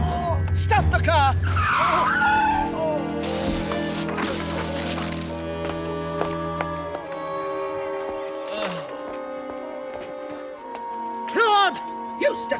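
A car skids and its tires squeal to a stop, a sharp screech over engine noise with people shouting and talking over it, then quieter voices.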